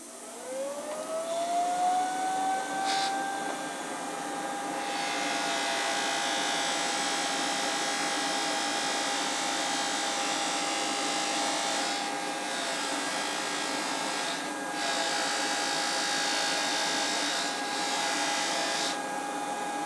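A power tool buffing wheel polishes a metal part, spinning up with a rising whine into a steady, loud, broadband grinding hiss that holds for the whole stretch, with a few brief scratchy surges as the part is pressed in.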